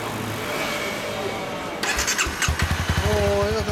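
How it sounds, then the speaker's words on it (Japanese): A 1991 Honda NSR250R motorcycle engine with stock exhaust cranks and catches, then settles into a steady, throbbing idle, close up, over a constant background hum. "エンジン音聞かせてもらう"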